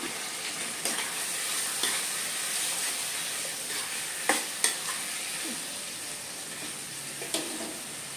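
Onions sautéing with ripe tomatoes, garlic and green chillies in a pan for a fish thokku, a constant close sizzle broken by a few sharp spoon clinks and scrapes.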